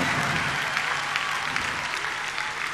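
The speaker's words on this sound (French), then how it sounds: "de là à vous applaudir vous-même" A concert audience at a show in France applauds, a dense, steady wash of many hands clapping at once, close and sustained throughout with no distinct voices.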